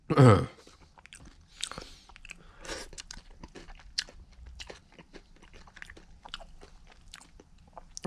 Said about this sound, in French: C'est mouillé, mais ça reste quand même assez croquant.